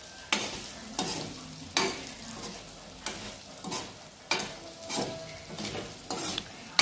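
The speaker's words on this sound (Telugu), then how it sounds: "ఫస్ట్ ఆలు ఆయిల్లో ఫ్రై చేసింది, మళ్ళీ తాలింపు వేస్తున్నది" Potatoes frying in oil while being stirred, a soft sizzle under regular scraping strokes of a spatula in a pan, about ten stirs at a steady rhythm, close and fairly quiet.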